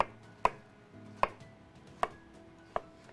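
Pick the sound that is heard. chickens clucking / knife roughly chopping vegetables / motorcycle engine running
knife roughly chopping vegetables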